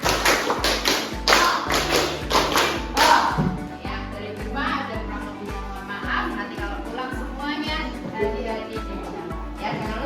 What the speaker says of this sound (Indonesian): Ada 2 kali tepuk 5.